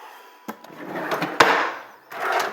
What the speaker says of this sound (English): Oh, and an empty drawer.